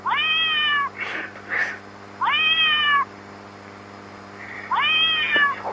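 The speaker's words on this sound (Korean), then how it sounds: "고양이 소리 가시나." A cat meows three times, drawn-out and insistent, with short pauses between calls and a faint background hum.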